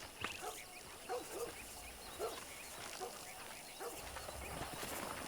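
Faint, regular horse hoofbeats clip-clop at a steady walking pace in the video game Red Dead Redemption, with soft background ambience.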